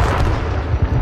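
Dense gunfire and booming blasts from the battle royale video game H1Z1, a loud continuous barrage of shots and explosions with no clear gaps.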